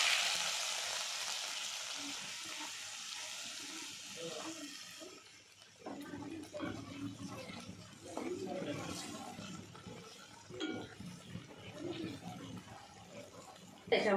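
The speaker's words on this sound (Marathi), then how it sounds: "आता तेल गरम झाले त्याच्यामध्ये मी मोहरी टाकून घेते।" Mustard seeds hit hot oil for a samosa filling with a loud, bright sizzle for the first few seconds, then the frying dies down to a faint crackle while someone talks over it.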